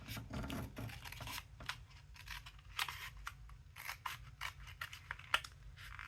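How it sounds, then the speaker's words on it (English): Scissors cut apart a paper journal card in a series of quiet, close snips with short gaps between them, and no voices. "So let's just cut this one apart again."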